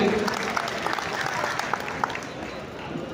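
Crowd applause at a political rally in Aligarh, a dense, steady wash of many hands clapping throughout, moderately loud with a few sharper claps standing out and some voices mixed in.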